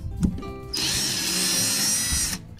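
A Makita cordless drill spins up after a brief click and runs at a steady high-pitched whine for about a second and a half before stopping, close and clear with no talking.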